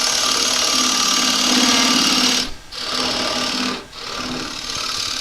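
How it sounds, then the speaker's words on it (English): Wood lathe spinning a pedestal bowl while a gouge cuts a hole into it, a loud steady scraping whir close up, twice briefly dipping as the tool lifts off. "we're going to dig a hole in here. I prefer to use a gouge for that."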